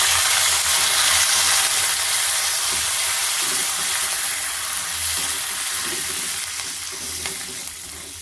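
Chana dal and curry leaves temper in hot oil for a tomato chutney, giving a steady, loud, close sizzle and crackle that runs throughout and fades slightly toward the end.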